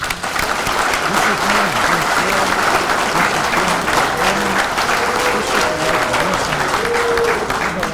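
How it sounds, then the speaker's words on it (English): Legion gathering applauding district spokespeople, a loud, sustained wash of crowd applause with voices murmuring underneath throughout. "How about a little bit of an applause there?"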